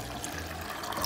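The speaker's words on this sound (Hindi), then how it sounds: "अब मैं 1 कप पानी ऐड करती हूँ" A cup of water is poured into a pot of dal before it is boiled on a slow flame, a brief, close, splashing gush that fills the whole short moment.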